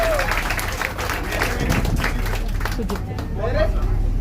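Passengers aboard the Kerala government cruiser boat Vega in Alappuzha clap together in a sustained burst of applause, mixed with crowd murmur and a steady low engine hum beneath.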